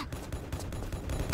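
Rapid bursts of gunfire with explosive ammunition in Tomb Raider: The Last Revelation, a dense volley of loud shots filling the whole moment with no talking.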